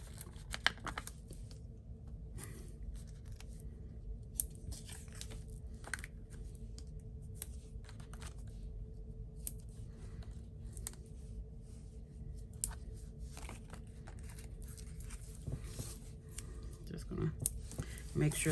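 Scissors cut black dimensional adhesive foam pieces for a stamped card craft, giving irregular sharp snips, crinkles and clicks close up against a quiet background, repeated throughout with some handling noise.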